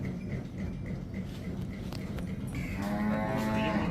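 A heavy-bodied dairy buffalo moos low and drawn-out near the end, over steady farmyard background noise and faint clopping, at a buffalo farm.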